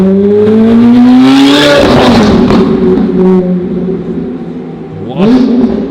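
A Lamborghini supercar revs hard on a city street in Zurich, its engine rising in pitch before a sharp upshift and crackling pops, then climbing again at close range, loud and roaring while people talk excitedly nearby.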